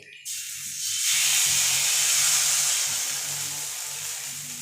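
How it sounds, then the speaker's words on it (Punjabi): Wheat flour and jaggery batter for sweet pooras ladled onto a hot griddle, bursting into a loud, steady sizzling hiss that swells after a quiet start and holds, easing slightly toward the end, with no voices. "ਹੁਣ ਆਪਾਂ ਇੱਕ ਕੜਛੀ ਦੀ ਮਦਦ ਦੇ ਨਾਲ ਇਹਦੇ ਉੱਪਰ ਘੋਲ ਪਾ ਦਾਂਗੇ"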